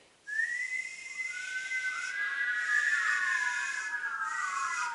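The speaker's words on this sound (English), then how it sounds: "Everybody whistle." Several audience members whistle together in overlapping rising and falling tones during a live story reading, a sustained group whistle that swells and carries on without speech.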